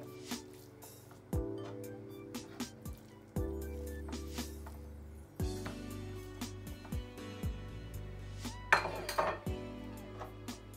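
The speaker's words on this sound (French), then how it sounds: "So I'm going to put my minced meat into my bowl." Minced meat dropped into a bowl for meatballs, with repeated clinks and knocks of utensils against the dish and soft squishy handling, close and irregular across several seconds, no speech.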